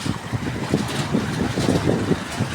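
Strong wind and crashing waves batter a small fishing boat at sea, a steady rough roar with gusty buffeting and irregular water slaps throughout, no voices.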